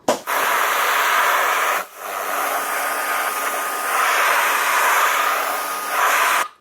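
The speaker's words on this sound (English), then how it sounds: "from a safe distance, we're going to spray inside of the gap." A steady, loud spray hiss into a door jamb gap runs almost continuously, with a brief pause near the start and another dip partway through before resuming.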